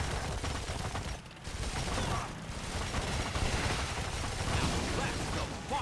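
Gunfire in the Blitzkrieg 3 Liberation of Paris battle crackles in dense, continuous bursts of rifle and machine-gun shots, mixed with rumbling and mechanical clatter.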